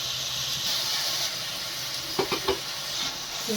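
Onions and vegetables fry in a hot pan with a sprinkle of salt for dam cut shavige bath, producing a continuous hissing sizzle with a few soft stirring clunks near the end.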